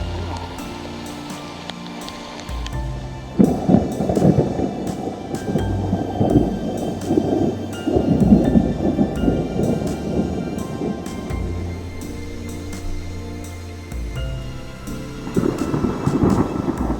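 Thunder rumbling during a thunderstorm while out fishing, deep rolling booms that swell and fade over a steady bed of rain and wind, with no talking.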